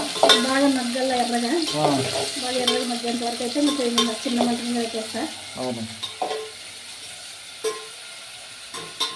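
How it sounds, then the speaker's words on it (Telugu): Chopped onion, tomato and green chillies frying in a pan, with a continuous close sizzle and stirring scrapes. A voice is heard over much of it. "మనం కట్ చేసి పెట్టుకున్న ఉల్లిగడ్డ టమాటా పచ్చిమిరపకాయలు మూడు వేసేస్తున్నా బాగా ఫ్రై కావాలి కదా"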